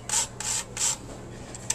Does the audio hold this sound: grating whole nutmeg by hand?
yes